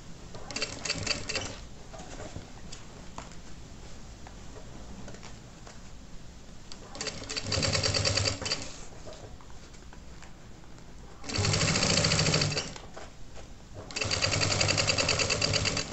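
An electric sewing machine runs in a steady rapid whir, stitching a child's backpack, in several bursts of a few seconds each separated by quieter handling sounds, loud and close.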